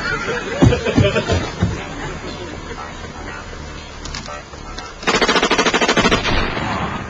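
Video game gunfire with players talking and laughing over it, ending in a loud rapid burst of Uzi submachine-gun shots, evenly spaced and close, that lasts about a second.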